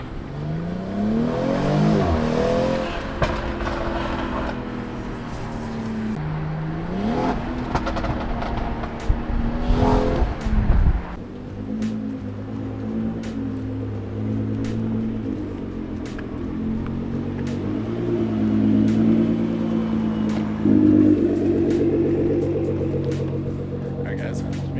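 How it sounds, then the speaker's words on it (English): Car engine revving at a supercar show in Utah, several short throttle blips with rising and falling roar up close, then a lower steady idle rumble, with people talking over it at times. "let's give it a little baby rev in here"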